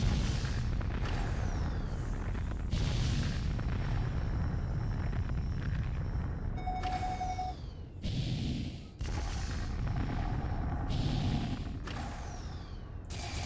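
Missile salvos in a video game arrive as repeated heavy booms and whooshing blasts in a dense, continuous barrage, with brief gaps and a tonal alert sounding midway.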